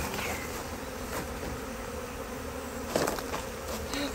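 Honeybees buzz close around a hive just after a queen installation, a steady busy hum of many insects with a louder pass near the microphone.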